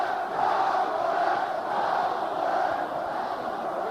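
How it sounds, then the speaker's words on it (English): A football crowd roars continuously in a stadium during a 1989-90 Middlesbrough versus Aston Villa cup final match, a dense, loud sustained chanting that swells and fades slightly without break. "the crowd rather quite rightly drowning out the commentator there"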